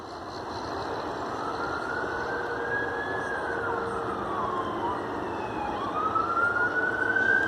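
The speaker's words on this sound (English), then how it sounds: "And then here we got sirens." Fire department sirens wail with rising and falling pitch over steady traffic rumble on a one-lane road, growing slightly louder toward the end.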